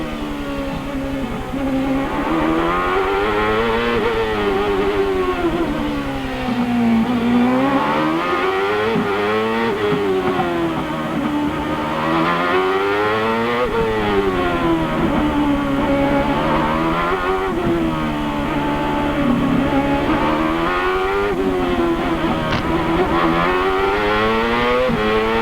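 Loud CART race car engines roar continuously at the 1999 Long Beach race, pitch climbing and dropping repeatedly as the drivers shift up and down through the gears, with no talking.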